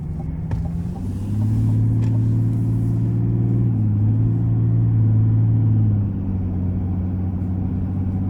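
A 2025 GMC Sierra 1500 SLE with the Duramax diesel engine pulls hard on an interstate, a loud, close cabin rumble that swells and holds its rising drone for several seconds before settling.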